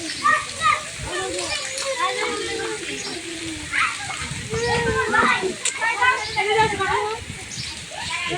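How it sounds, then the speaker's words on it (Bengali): Water falls and splashes steadily on an outing, with children's voices and chatter mixed over the continuous spatter. "জল পড়ি"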